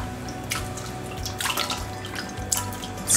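Chicken feet rinsed in clean water in a kitchen, with steady splashing and sloshing, dripping, and a few sharper clinks and taps, moderately loud and close, no voices.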